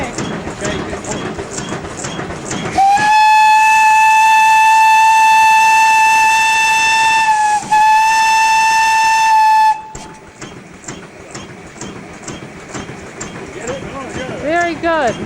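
A loud, steady steam whistle on an old steam engine driving a gold stamper at Pine Creek, Northern Territory, blows for about seven seconds with a brief dip midway, between stretches of rhythmic chugging machinery and people talking.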